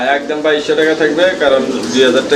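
Fancy pigeons coo steadily in a close, continuous rolling murmur from a sale pen, with no talk in this stretch.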